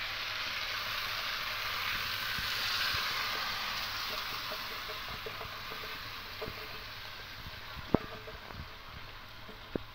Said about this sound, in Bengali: এবার এখানে ধুয়ে রাখা চালটা দিয়ে দেব